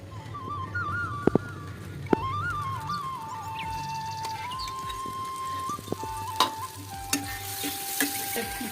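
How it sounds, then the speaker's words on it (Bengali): Ground shrimp paste fries in leftover hot oil for a Bengali chingri bhorta, giving a steady close sizzle broken by scraping clinks of stirring. A thin pitched whistling tone wanders in the background. "যা তেল ছিল আগে সেই তেলেই আমি চিংড়ি বাটাটা দিয়ে দিলাম"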